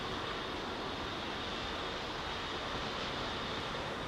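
A heavy airliner at Heathrow's runway 09R produces a steady, broadband engine roar, loud and continuous throughout with no rise or fall, and no voices.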